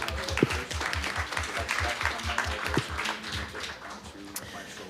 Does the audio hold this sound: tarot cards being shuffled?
no